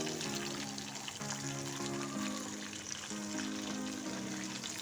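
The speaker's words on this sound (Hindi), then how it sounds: "मैं फ़िश जो है वो फ्राई कर रही हूँ" Fish frying in a home kitchen pan: a steady, close, even sizzle runs through the whole stretch beneath a soft tonal background melody, with no talking.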